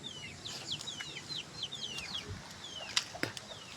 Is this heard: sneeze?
no